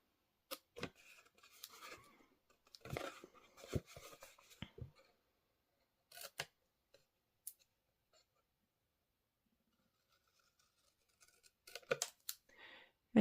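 Scissors trimming card paper during card making: scattered short snips and clicks, faint and close, separated by quiet gaps, with no talking.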